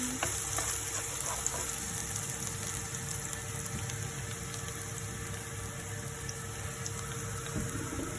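Garlic fries in a wok or pan with a constant close sizzle, while a spoon scrapes and stirs it now and then with light clinks and rustles. Nobody speaks.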